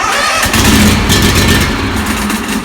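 Engine of a lawn care machine starting with the choke set to full and the throttle at about half, catching and settling into a loud, rough, steady running roar close by, with no talking.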